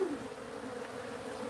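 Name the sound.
large swarm of bees buzzing at house soffit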